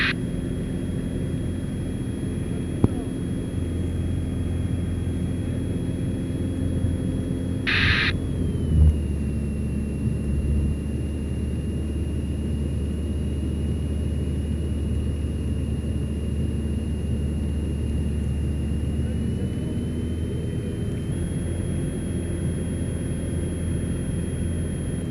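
Steady, loud drone of a DR42 light aircraft's piston engine and propeller heard from inside the cabin in flight over Île d'Yeu, a continuous even rumble with a faint high tone and a brief change in pitch partway through.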